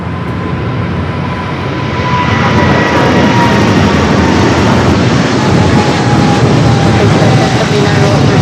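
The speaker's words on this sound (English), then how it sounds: "Cargo 777 rolling down to 25 left." A cargo Boeing 777 rolls toward runway 25 Left at LAX with a loud, broad jet-engine roar that swells after about two seconds and then holds steady and close.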